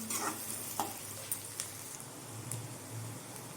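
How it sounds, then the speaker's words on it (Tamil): Chopped onions sauté in a pan for a Tamil vallarai keerai (brahmi leaves) poriyal, giving a soft, steady sizzle broken by a few light stirring scrapes and clicks, quiet and close with no talking. "இப்போது வெங்காயம் நல்லா வதங்கட்டும்"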